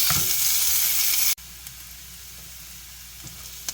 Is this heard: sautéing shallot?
yes